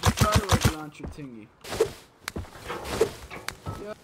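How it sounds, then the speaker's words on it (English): Fireworks in the video game Rust pop and crackle in a quick string of sharp bangs, with players talking and laughing over them. "Yay, fireworks!"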